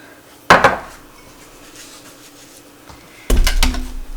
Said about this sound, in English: Now I'm just going to stir this up a little bit.